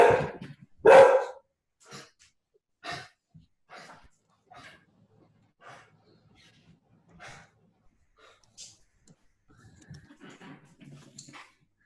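A pet dog barks loudly a couple of times near the start, then fainter yips and scattered sounds follow during an online volunteer training session, with a little background noise.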